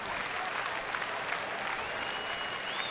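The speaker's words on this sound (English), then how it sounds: "Oh, that's why they're cheering." Crowd at a San Diego Padres baseball game against the Cincinnati Reds cheers and applauds steadily as the San Diego Chicken mascot appears, a dense, continuous roar of clapping and voices at moderate distance.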